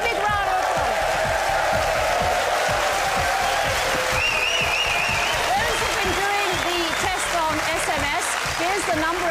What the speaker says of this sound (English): Give yourselves a really big round of applause.